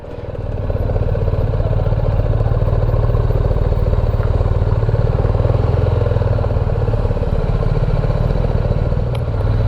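A motorcycle rides up toward a parking area near a tunnel, its engine a loud, steady close drone with a rattling mechanical clatter for nearly ten seconds, no voices.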